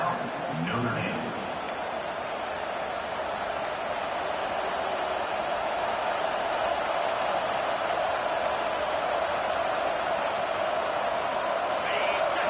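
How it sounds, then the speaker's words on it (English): Football stadium crowd at a Notre Dame game cheering on third down, a dense sustained roar that stays loud and steady throughout, with a commentator's voice over it. "Decibels rising as the crowd gets behind this defense on third down."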